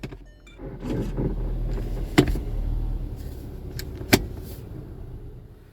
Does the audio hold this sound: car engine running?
yes